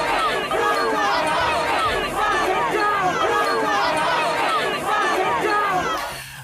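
A large crowd of protesters at a far-right rally in London, a loud dense babble of many voices with rising surges of shouting, sustained throughout before thinning out at the very end.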